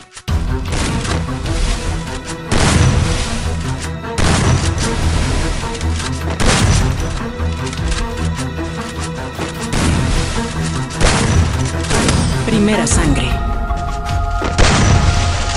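Video game gunfire rattles in dense, repeated booming shots throughout a match, loud and continuous, while a game announcer voice breaks in.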